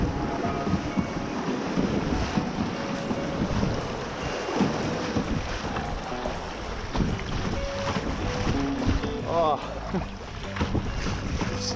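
Kayak paddling through rough river waves on the Thames, with constant rushing water and wind buffeting close to the microphone, splashes throughout and no clear pauses.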